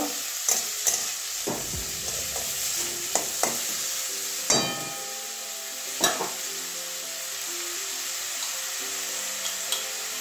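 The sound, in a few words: frying pointed gourd seeds and pulp in pan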